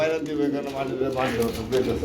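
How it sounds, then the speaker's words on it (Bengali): Grizzle pigeons coo in low, rolling murmurs close by, with a person talking over them throughout. "এটা কি আবার ভাই গ্রিজেল কবুতর"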